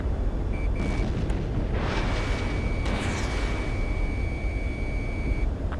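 Explosion of a destroyed target in the Ace Combat 7 flight combat game during a pipeline strike mission, a loud sustained rumbling blast with a steady roar and a thin electronic tone running through it.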